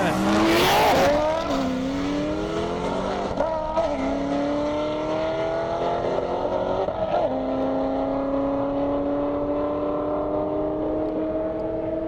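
Corvette race cars on an airstrip roar close by, engines screeching at first with a brief tire squeal, then climbing steadily in pitch through several gear pulls as they accelerate away, loud and continuous throughout.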